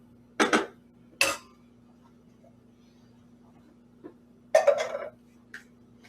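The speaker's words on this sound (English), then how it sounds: "you can give this a little gentle stir at this point" A spoon stirs rice gently in a pot on the stove: a few sharp metallic scrapes and clinks stand out, separated by quiet pauses over a faint steady hum.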